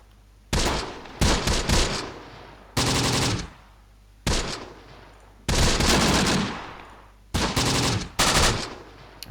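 Machine gun fire in the WWII strategy game Close Combat: The Bloody First: loud, close bursts of rapid automatic fire, several separate volleys of one to two seconds each with short gaps between them.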